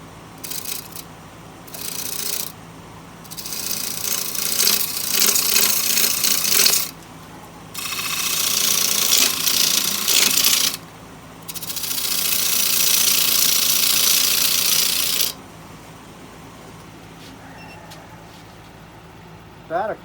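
An ambrosia maple bowl spins on a wood lathe while the rim is turned, giving repeated bursts of rough, hissing cutting noise of several seconds each, separated by quieter pauses with the motor humming underneath.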